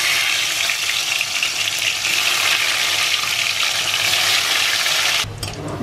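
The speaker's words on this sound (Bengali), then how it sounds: "আগে কিছু ইলিশ মাছ ভাজা করে নেবো" Hilsa fish pieces fry in a pan of oil with a steady, dense sizzle that runs loud and unbroken for about five seconds, then drops off abruptly near the end.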